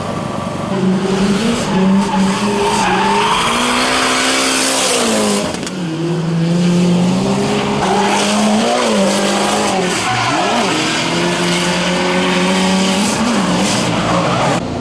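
A D1 Lights drift car at Bihoku runs a competition heat, engine roaring loud and close with sustained tire squeal and skidding, revs rising and falling through shifts across the whole stretch.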